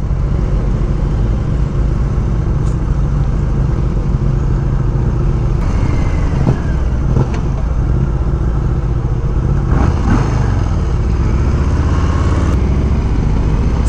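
A Harley-Davidson Low Rider S on a group ride, a loud continuous engine drone with wind rumble and brief rising revs from nearby bikes throughout.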